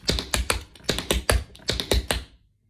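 Tap shoes strike the floor in quick cramp rolls on the balls of the feet, a crisp run of close, clattering taps in a steady pattern that then stops.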